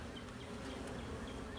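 Honey bees buzz steadily on a hive frame, a dense close hum with no pauses and no voices.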